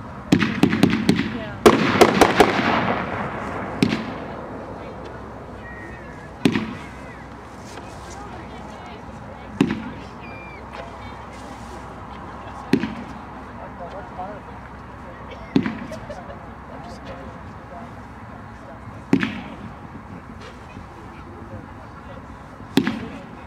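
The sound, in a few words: flying fish fireworks being shot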